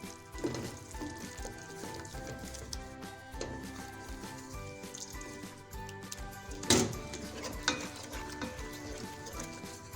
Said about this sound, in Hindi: अच्छे से मिक्स करेंगे